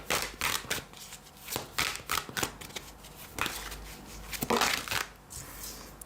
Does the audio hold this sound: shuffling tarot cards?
yes